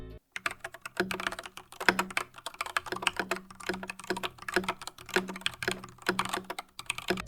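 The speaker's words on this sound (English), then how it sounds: "First, let's hear how the keyboard sounded before." Someone types on a custom mechanical keyboard before any tape mod, with close, steady clacking keystrokes in quick irregular bursts and brief pauses.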